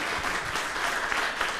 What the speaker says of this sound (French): Monsieur Ibrahima Théo Lam, on l'applaudit à Bijeune.